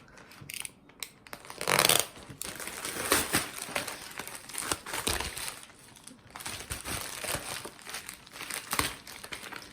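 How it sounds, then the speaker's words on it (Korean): Delivered parcel from an overseas order, a bag, being torn open, with its plastic packaging crinkling and crushing in close, continuous bursts and a louder rip near the start. "택배가 와가지고 뜯어볼게요."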